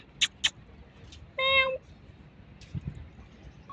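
A cat gives a drawn-out meow amid a few short squeaky chirps and quiet rustling, fairly close by.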